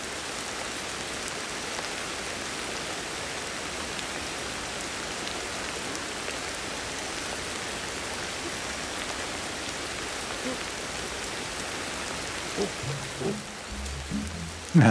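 Steady rainfall in the video game Ancestors hisses evenly across the whole stretch, a continuous broadband patter at moderate level, with a few brief louder knocks near the end.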